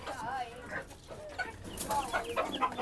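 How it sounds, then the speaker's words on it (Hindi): Hens at a home coop cluck in short, close bursts, a few nearby birds calling irregularly while someone talks over them. "अभी वहाँ पर अपनी मुर्गियों को भी डाल देते हैं"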